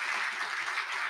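An audience applauds a tribute band at an Edmund Fitzgerald sinking memorial event, a dense, steady patter of many hands clapping throughout the brief moment.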